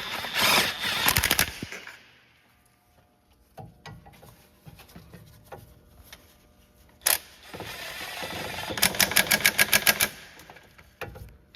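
A hand ratchet snugs down 15 mm bolts during a front differential and transfer case replacement on a 2009-2017 Chevy Traverse AWD. Two bursts of rapid, close clicking come at the start and again near the end, with scattered clanks and taps between them.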